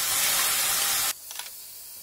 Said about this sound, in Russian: Отправляем сюда яблоки. Будем вместе обжаривать буквально 3-4 минуты.